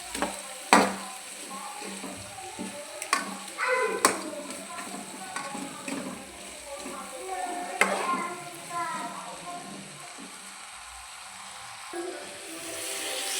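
Dried sardines with masala are stirred in a pan, scattered scrapes and soft knocks over a faint frying sizzle, with occasional speech nearby.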